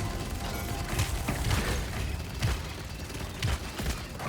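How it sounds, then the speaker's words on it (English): Gunfire in the video game Paladins, a steady clatter of mechanical shots and impacts with a few heavier thumps, dense and continuous throughout. "Oh no, they're shooting me."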